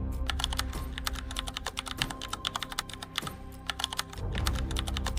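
Rapid, uneven clatter of typing on a computer keyboard, dense keystrokes running continuously and fairly close, with no voices.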